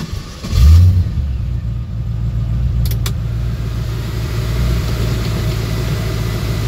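A 1967 pro touring Camaro with an LS1 V8 fires up with a short, loud cranking burst, then settles into a deep, steady, rumbling idle close to the microphone.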